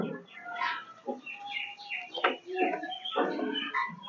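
Pigeons at a pigeon seller's place coo and chirp in a series of short close calls, with a voice talking in between.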